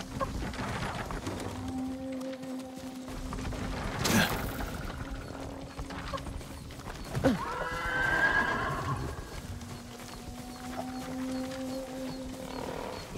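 A horse in Ghost of Tsushima gives loud whinnies and snorts over a steady bed of hoofbeats and game ambience, with sharp calls rising above the continuous clip-clop.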